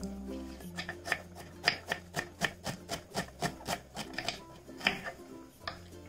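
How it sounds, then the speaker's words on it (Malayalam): Knife slicing two onions on a cutting board while cooking chicken vindaloo, a steady series of close, crisp chopping taps at an even rhythm, no talk. "ഞാനിവിടെ 2 സവാളയും ഇതുപോലെ സ്ലൈസ് ചെയ്ത് എടുത്തിട്ടുണ്ട്"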